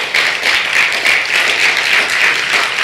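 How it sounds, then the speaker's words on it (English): A loud, steady roar of many hands clapping fills a rally honoring Mumia Abu Jamal, held by veteran Black Panthers. The audience claps continuously and evenly with no pause. "Clap your goddamn hands if you're ready for revolution."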